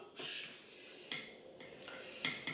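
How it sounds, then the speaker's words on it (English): A utensil scrapes and clinks against a bowl as vegan ingredients are mixed, with a few short scraping strokes and light knocks, close and quiet with no talk. "And mix it up."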